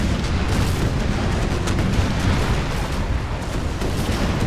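Naval cannon broadsides at point-blank range in the video game Empire: Imperial Splendour, a dense, loud continuous rumble of overlapping booms with no pauses.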